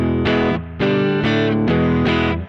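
Telecaster partscaster with a P90 neck pickup through the clean channel of a Koch Studio Tone 20 amp, playing a few sustained chords with brief gaps between strums, loud and close with no talk.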